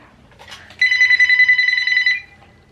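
A telephone rings with a bright, continuous electronic trill lasting over a second, loud and close in a quiet room, after a faint brief rustle.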